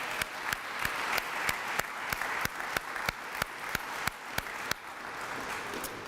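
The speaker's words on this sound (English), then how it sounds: "Let's give a big round of applause to Ms. Gleason." Applause from an audience at a university dean's awards ceremony, a fairly quiet, even wash of many hands clapping with a few distinct sharp claps punctuating it, continuing steadily for around six seconds.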